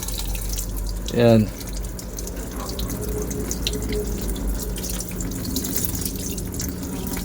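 Tap water runs over enoki mushrooms in a sink, making a steady splashing hiss under a home cook's occasional chatter.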